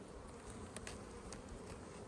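Honey bees swarm around an open hive with frames of drawn comb and capped honey, making a dense, steady close-up buzz with a few brief louder passes of single bees.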